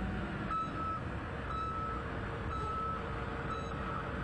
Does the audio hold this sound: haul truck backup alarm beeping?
yes